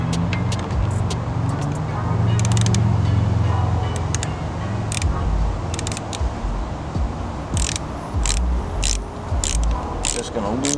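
A 10mm socket loosens a fastener on the exterior of a 2008 Honda Civic, giving sharp ratcheting clicks and metallic scrapes over loud, steady background rumble, with a few brief mechanical knocks.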